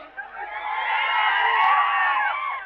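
A political rally crowd cheers and shouts steadily and loudly throughout, a dense wash of voices with whoops rising above it.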